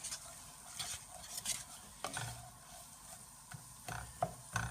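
Beef mince and onions sizzle and fry in a pan, heard close up with a steady soft crackle broken by scraping stirs.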